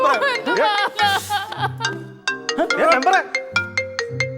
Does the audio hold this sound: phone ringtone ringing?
yes